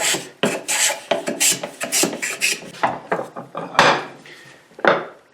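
A Stanley 12-404 hand plane shaves a wood surface in a quick series of close, raspy strokes, about a dozen rhythmic swipes with brief pauses and a few louder final passes.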